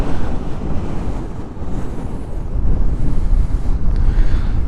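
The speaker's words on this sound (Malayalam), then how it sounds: "ഒടുക്കത്തെ കാറ്റ് കേട്ടാ." Strong wind at an outdoor viewpoint during an evening ride on a Yamaha R15 V3, a loud, continuous roar buffeting the microphone and swelling toward the end.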